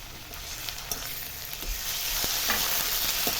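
Ginger-garlic paste sizzles in a pan of already-fried onions for a quick chicken dish, giving a steady, close hiss of frying with a few soft stirring clicks and no talk.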